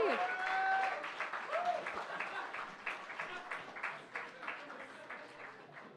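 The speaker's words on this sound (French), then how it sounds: "On peut l'applaudir." Audience applause at a future-technologies presentation event, a fairly faint, steady patter of clapping with a voice speaking over the first moments.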